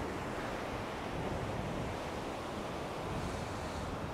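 Steady, close broadband roar of sea surf on the east coast, waves washing continuously with wind buffeting the microphone and no voices.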